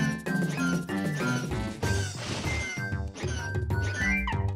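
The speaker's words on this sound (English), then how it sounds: "That is the sound of a Yoshi crying." A Yoshi crying in the Paper Mario video game, a busy burst of cartoonish sobbing sound effects layered over game music and clinking effects, continuous and moderately loud.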